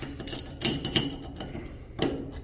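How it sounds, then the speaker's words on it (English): A wrench taps several times on the stem of a Symmons shower valve, giving light, quiet metallic ticks in an irregular rhythm close by. "Take my wrench. I think I've loosened this already once. Give it a little bit of tap."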